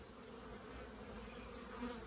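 Honeybees from a nurse bee colony buzzing in a soft, continuous drone, faint and close, with no voices.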